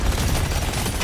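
A dense, rumbling burst of blasts and crackling fire erupts in Deep Rock Galactic Survivor, loud and continuous for a moment without any voices.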